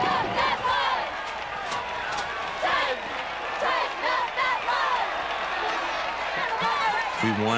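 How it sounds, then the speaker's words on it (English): A near-sellout homecoming football crowd at Nickerson Field fills the air with a steady wash of cheering and shouting, loud and continuous throughout with scattered claps. "The 6-0 Terriers were greeted by a near sellout crowd, a crowd that was hungry to see history."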